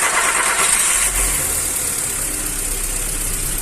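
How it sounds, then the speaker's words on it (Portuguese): A Volkswagen Gol G5 car engine runs loud and close at a steady idle after being turned backwards, with hydraulic tappet (lifter) noise in its continuous mechanical drone and no pauses. "Vai fazer um barulhinho porque a gente rodou o motor para trás, barulho de tucho"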